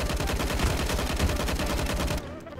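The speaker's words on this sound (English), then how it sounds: "people trying to shoot me" Rapid automatic gunfire from the video game CS:GO, on the Dust 2 map, rattles continuously in a dense, loud burst before stopping abruptly.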